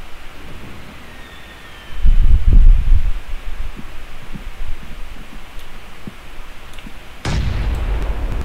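A grenade goes off in the battle-royale shooter PUBG, a heavy low boom at about two seconds, then quieter pops and distant gunfire, and a second deep blast near the end over steady ambient game noise.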